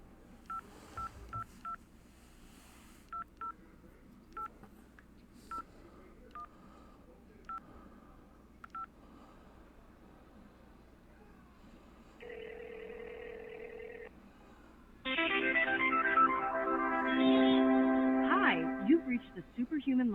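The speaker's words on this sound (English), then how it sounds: "I need to make a phone call." A telephone is dialed with a quick series of beeping keypad tones spaced across several seconds, followed by a steady line tone and then a louder ringing signal, with a voice speaking faintly in between.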